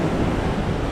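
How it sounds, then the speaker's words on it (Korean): Sea waves and wind rush heard from a lower deck of a cruise ship at sea, a steady, close washing roar filling the whole moment with no voices. "이렇게 바다 소리 들으면서 갈 수도 있고요."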